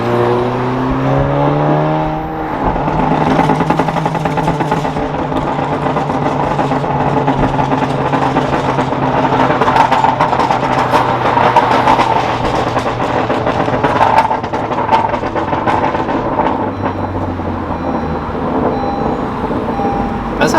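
Catless exhaust on a 2017+ Honda Civic Si revving in second gear toward 5,000 RPM, a loud close engine drone whose pitch climbs and holds with a raspy buzz throughout.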